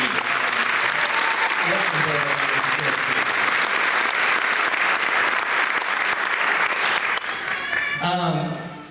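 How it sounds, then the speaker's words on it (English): Enthusiastic applause from a show audience at an alumni celebration, loud and continuous throughout with crowd noise, and voices or music briefly rising near the end. "So if we just give a round of applause to this whole community"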